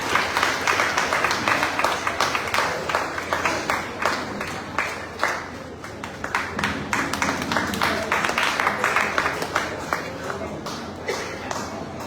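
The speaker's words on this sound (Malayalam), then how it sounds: "നല്ലൊരു കൈയടി കൊടുക്കാം." An audience at a parish family gathering and devotional association anniversary claps in a dense, steady round of applause that carries on for several seconds, with shuffling and murmuring voices mixed in.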